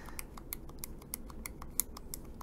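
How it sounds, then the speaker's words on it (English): Clicky buttons on a Retroid Pocket handheld pressed one after another, a steady series of sharp, close, fairly quiet clicks with no talking. "The buttons are nice and clicky."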